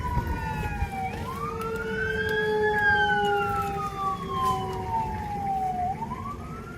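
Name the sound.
fire engine siren approaching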